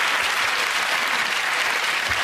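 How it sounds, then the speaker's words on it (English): Studio audience at a TV comedy panel show breaks into dense, loud, sustained applause, a continuous wash of clapping with no talk over it. "Ironically, gets a round of applause for that."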